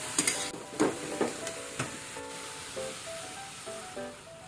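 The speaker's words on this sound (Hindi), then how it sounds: "अब हम इसमें दूध ऐड कर देंगे।" Milk is poured into a pan of fried bottle gourd for kheer, producing a faint hiss and sizzle with a few sharp clinks and splashes early on, then quieter bubbling.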